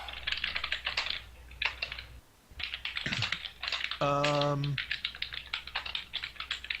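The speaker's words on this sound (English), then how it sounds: "Typing sounds." Quick bursts of clacking keystrokes on a computer keyboard during a tabletop game session, close and crisp in uneven clusters, with brief talk and a short tonal sound partway through.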